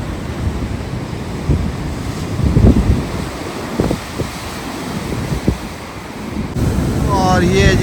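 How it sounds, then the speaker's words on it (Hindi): Strong wind buffets the microphone over steady surf on a Cornwall beach, with waves rolling and breaking in broad swells at close range, and a brief whistling tone toward the end. "मुझे तो समंदर की इस आवाज़ से प्यार है भाई, और जो तेज़ खुनक हवा चल रही है"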